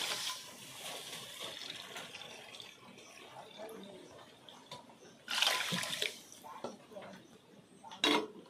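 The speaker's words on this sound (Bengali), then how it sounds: "এই মাপের আমি 2 বাটি জল দেব।" Water is poured into a pot holding sugar for gulab jamun syrup, giving splashy bursts of pouring over a soft background hiss, the loudest gush near the end.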